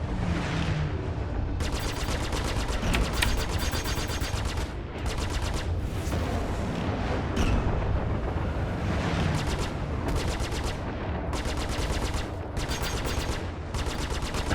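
Rapid spaceship gunfire from Star Citizen racing, sustained bursts of automatic shots cutting in and out in repeated volleys, loud and dense over a constant engine drone.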